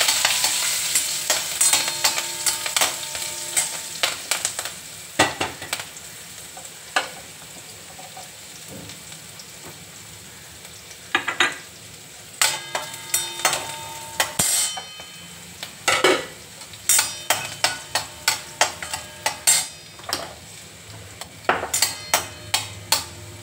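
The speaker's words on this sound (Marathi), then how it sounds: "त्याच्यात मस्त अशी मेथी परतून" Fenugreek leaves with cumin, asafoetida and green chili sizzle in a hot pan while a spoon stirs and scrapes repeatedly, close and fairly loud, with bursts of rhythmic scraping over continuous frying.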